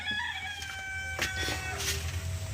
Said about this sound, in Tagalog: Ang tilaok ng manok.